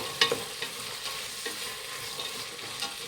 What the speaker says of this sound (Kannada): ತರಕಾರಿ ಚೆನ್ನಾಗಿ ಫ್ರೈ ಮಾಡಿ ಎಣ್ಣೆಯಲ್ಲಿ.